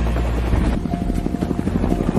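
Two military helicopters arriving in a war film, a loud close rotor thump pulsing rapidly and steadily over a low engine drone, with no talking.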